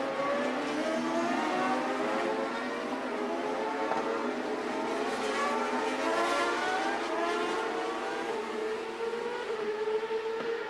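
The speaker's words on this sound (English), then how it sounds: "Coming around to take the green flag now, Cristiano D'Amata." CART Champ Cars at the 2002 Montreal race roar continuously as a pack, several engines overlapping with rising and falling pitch sweeps as they accelerate, loud and sustained throughout with no speech.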